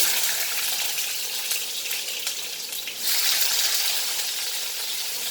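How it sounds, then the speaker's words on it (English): Chopped onion hits a hot pan and sets off a loud, broad hiss of frying that swells noticeably about halfway through and then holds steady, with no voices. "Now I will add my onion."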